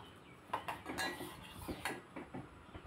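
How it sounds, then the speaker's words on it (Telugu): Pan set on a stove with oil poured in while making minapa rotte, heard as a series of quiet metallic clinks and knocks of cookware against a soft kitchen background. "ప్యాన్ పెట్టి ఆయిల్ పోసాను."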